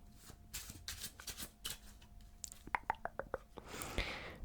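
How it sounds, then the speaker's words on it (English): Playing cards being shuffled up close, a riffle of rapid flicks and a quick burst of clicking cards, followed by a soft sliding rush. "so we'll give it all kinds of shuffles and a good mix up basically."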